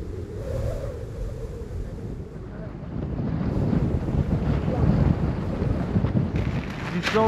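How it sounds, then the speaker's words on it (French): Strong wind in Iceland, roughly 70 km/h, roars and buffets the microphone in a constant low rumble that builds in the second half, with no one talking. "Il y a un peu de vent là."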